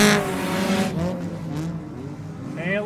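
A race car accelerating hard off turn 2 at the 2022 Old Milwaukee 30. Its engine note climbs loud and close, with other cars roaring along just behind.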